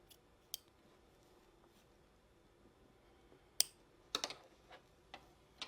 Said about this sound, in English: Just being careful to not clip your threads. So I'm just trimming all that excess away.